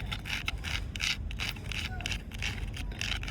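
A rangain stone is rubbed against a hard surface to grind it into powder, giving repeated short scraping strokes in a quick back-and-forth rhythm, close and fairly soft.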